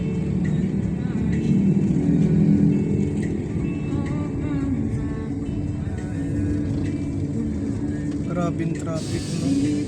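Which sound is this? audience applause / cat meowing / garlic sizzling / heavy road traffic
heavy road traffic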